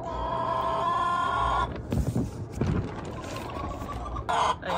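Big household hens, one of them laying, cluck nearby in repeated throaty calls, with a few louder squawks toward the end and little else around.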